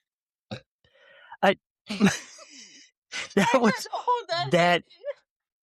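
A loud, drawn-out burp rolls out between chuckles and groaning, close to the mic, with a short voiced sound before it.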